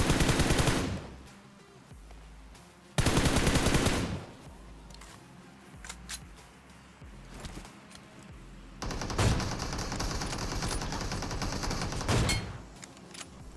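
Rapid automatic gunfire bursts from a BGMI (PUBG Mobile) battle, loud close volleys separated by quieter gaps, with a sustained stretch of firing near the end.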